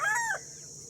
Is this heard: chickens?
yes